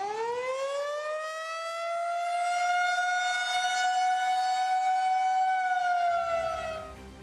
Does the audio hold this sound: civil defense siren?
yes